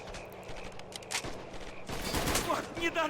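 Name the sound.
gunfire in Men of War: Assault Squad 2 video game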